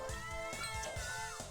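A cat meowing in the video game Castlevania Dawn of Sorrow, a short high wavering cry over busy game music, loud and close.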